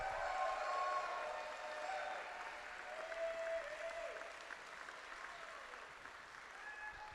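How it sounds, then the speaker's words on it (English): An audience applauding at the ENNIE Awards, live at GenCon, with steady sustained clapping from a large crowd filling the hall, fairly even in loudness throughout. "So give them a round of applause."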